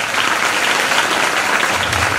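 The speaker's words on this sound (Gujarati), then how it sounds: "આપણે એમને તાળીઓથી બતાવીએ." Steady, loud audience applause from a crowd of villagers at a school gathering, dense clapping sustained throughout without pause.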